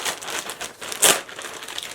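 Plastic packaging around a wig crinkles and rustles as it is opened, a close, continuous crackle with one brief louder crunch midway.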